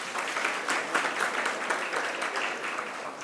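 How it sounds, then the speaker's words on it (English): Audience clapping at a partnership summit in KwaZulu-Natal, a sustained, even round of many hands throughout, moderately loud, with no voices over it. "Please give her another round of applause"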